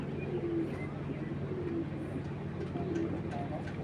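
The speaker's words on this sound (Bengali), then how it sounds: "এই হলো অরিজিনাল তোতা কবুতর," Soft, repeated cooing from a large tota-type pigeon at a pigeon sale, low throaty calls coming every second or so over steady background hum and someone talking.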